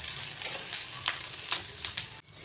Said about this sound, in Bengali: দেখুন পেঁয়াজগুলো লাল লাল করে ভেজে নিয়েছি